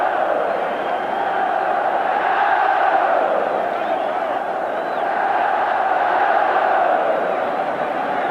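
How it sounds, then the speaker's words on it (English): A large football crowd at a Scottish Cup final roars and cheers steadily as Celtic players come down, a broad, sustained stadium wash with no distinct voices standing out. "And down come the Celtic players, deservedly getting their individual cheer."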